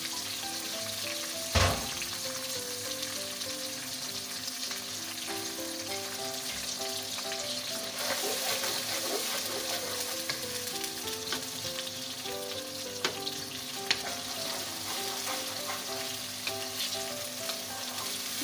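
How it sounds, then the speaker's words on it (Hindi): Ground onion fries in hot oil in a pan for chicken karahi, giving a steady, dense sizzle with occasional scrapes and knocks of stirring, close and continuous, with no talk. "प्याज को हम थोड़ा भूनेंगे ताकि इससे थोड़ा पानी खुश्क हो जाए।"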